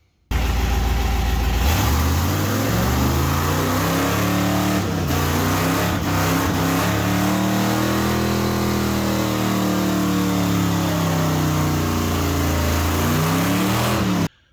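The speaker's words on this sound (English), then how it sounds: "we did that burnout the other day and all we had was two-wheel peel, but only on one side" A car engine revs hard during a burnout with two-wheel peel, a loud, close roar whose pitch sweeps up and down in long rising and falling surges, alone without talk.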